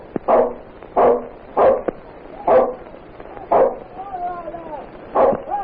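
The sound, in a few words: dog barking, radio drama sound effect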